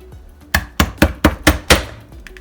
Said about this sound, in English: this is an easy way to get the skin off the garlic